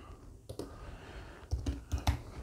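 Keys on a computer keyboard are tapped in a few quick, irregular clusters of close, crisp clicks, with quiet gaps between bursts and no voices.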